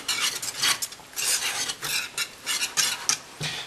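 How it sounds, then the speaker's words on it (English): A utensil stirs melting cheese into a pork tenderloin cheese steak mixture in a pan, making quick, repeated scraping strokes close by with short pauses between them. "Go ahead and finish mixing that in there"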